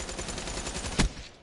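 Rapid automatic gunfire rattles in a PS4 shooter game, a dense, fast string of shots with one louder, punchier blast near the end, heard alone at moderate level.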